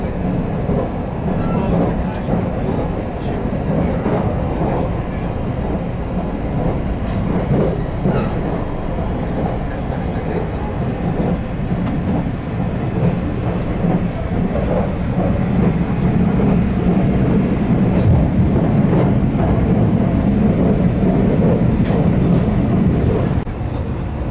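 Inside a JR limited express train running to Kanazawa, a loud, steady rumble of wheels and carriage noise fills the whole stretch, with faint rhythmic clacking from the rails throughout.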